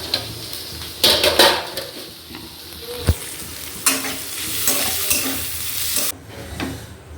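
Chow mein being stirred and scraped around a wok (kadai) in a home kitchen, with some stuck to the pan: a steady faint sizzle under close, irregular metallic scrapes and clinks, including a sharp knock near the middle.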